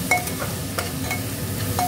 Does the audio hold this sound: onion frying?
yes